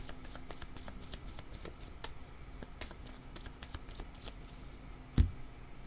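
A deck of cards shuffled for a card reading, giving soft, continuous riffling and flicking across the whole stretch, with one louder knock near the end.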